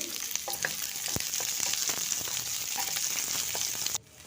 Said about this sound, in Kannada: ಬೆಳ್ಳುಳ್ಳಿ ಹಾಕ್ಕೊಳ್ಳೋಣ ಹಾಕಿ ಸ್ವಲ್ಪ ಫ್ರೈ ಮಾಡೋಣ